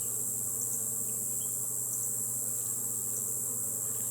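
Honeybees humming steadily in an opened hive during an inspection, a dense continuous buzz at even loudness with no voices.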